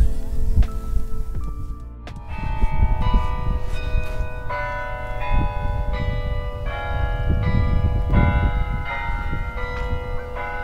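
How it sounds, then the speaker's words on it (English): A campus bell tower on Furman University's Swan Lake Trail rings a steady run of loud, resonant chimes, strike after strike, carrying over outdoor noise with no talk. "That bell tower is a little annoying when it wants to talk a lot."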